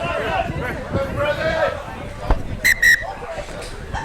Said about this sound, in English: Referee blows his whistle.